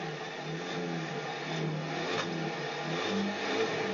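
The twin-turbo V6 of a 2020 Kia Stinger GT1 rumbles steadily with a moderate rev, heard at a distance and fairly quiet.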